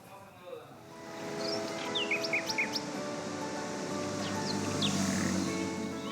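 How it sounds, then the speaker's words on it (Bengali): Birds chirp and call in short bright bursts over a steady low hum in a quiet, traffic-free Dhaka during the Eid holiday, the calls fairly close and distinct against the calm city background. "শান্ত স্নিগ্ধ নগরী, পাখির কলকাকুলিতে মুখর।"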